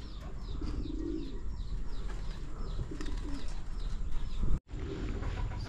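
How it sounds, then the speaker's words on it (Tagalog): A hybrid pigeon coos among a flock of other pigeons, with soft repeated coos and chirps going on steadily. One brief dropout comes near the end. "Meron tayong bagong kalapate dyan na hybrid."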